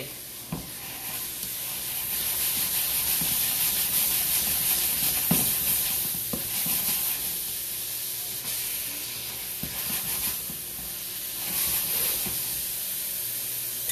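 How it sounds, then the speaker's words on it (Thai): Minced pork and seasoning paste stir-frying in a pan, a steady broadband sizzle and hiss with occasional stirring scrapes, close and continuous with no talking. "ผัดหมูสับนะคะ"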